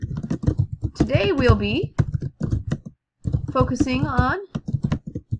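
Rapid clicking keystrokes on a computer keyboard patter steadily and close by, continuing under a voice that speaks over most of the typing before a short pause.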